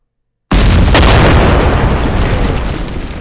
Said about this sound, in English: At least the artillery will soften them up.